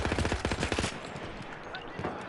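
Battlefield 1 gunfire, a quick automatic burst of loud, punchy shots up close that stops abruptly and gives way to a quieter rumbling background.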